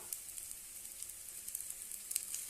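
Banana paniyaram batter sizzles gently in a pan over a low flame, a soft, steady hiss with small crackling pops scattered throughout, fairly quiet and alone.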